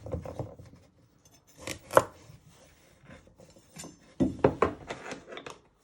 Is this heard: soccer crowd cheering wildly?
no